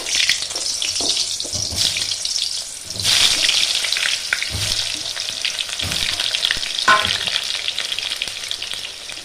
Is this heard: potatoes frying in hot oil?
yes